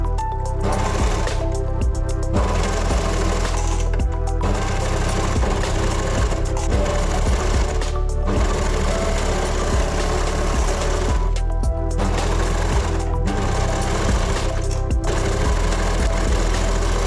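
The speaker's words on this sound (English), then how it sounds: "stitch them together using the same method we did on the shoulder seam" Nearby, a sewing machine runs loud and steady, stitching the sleeves onto a baby onesie in long continuous bursts, with several brief stops along the way and no speech.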